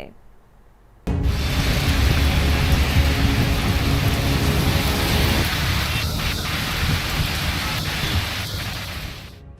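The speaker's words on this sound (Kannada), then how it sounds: "ಮರಗಳನ್ನೇ ಧರೆಗುರುಳಿಸ್ತಿರೋ ಬಿರುಗಾಳಿ, ಬೆಳೆಗಳನ್ನ ನೆಲದ ಪಾಲು ಮಾಡ್ತಿರೋ ರಣಮಳೆ" Heavy rain with strong wind in Chikkamagaluru, Karnataka, pours steadily in a dense roaring wash, with gusty wind noise and a few faint clicks partway through.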